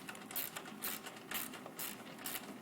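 Socket wrench ratcheting to tighten a nylon stop nut on a 7/16 inch bolt during a power front assembly install, five quick bursts of clicking at a steady rhythm, close and fairly quiet, no voices.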